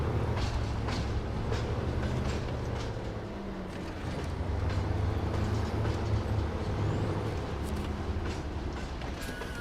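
A modded railroad locomotive on tires drives in the SnowRunner video game, giving a steady heavy engine rumble and a mechanical rolling noise. It stays continuous and fairly loud throughout.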